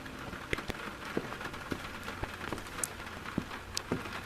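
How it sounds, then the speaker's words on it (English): Rain falling in the video game Sun Lost, a steady soft patter of drops on surfaces with scattered sharper ticks, heard alone at a low level. "Okay, that's rain."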